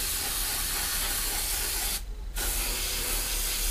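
Steady, loud hiss of an airbrush spraying paint at high pressure onto a Hasegawa 1/48 Harrier GR7 scale model, broken by one brief pause before the spray resumes.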